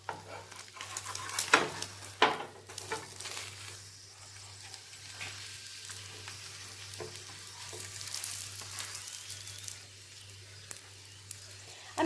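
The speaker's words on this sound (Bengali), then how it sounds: "আমি চেপে চেপে পরোটাটাকে ডিম সহ খুব ভালো মতন ভেজে নিচ্ছি।" Paratha with egg frying in oil while being pressed down, a steady low sizzle with a few sharper scraping knocks near the start and a constant hum underneath.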